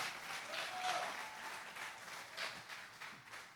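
A church congregation claps together for a preacher, a fairly faint, uneven patter of applause that rises and falls in small swells, with a faint voice mixed in.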